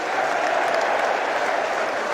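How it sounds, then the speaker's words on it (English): Queens Park Rangers football fans applaud steadily in a stadium as the final whistle sounds on promotion day, a dense, even wash of clapping from a large crowd at a distance. "thank you for the generous applause from the QPR fans"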